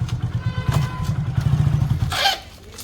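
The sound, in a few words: motorcycle engine riding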